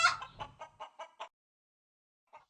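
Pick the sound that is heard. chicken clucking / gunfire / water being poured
chicken clucking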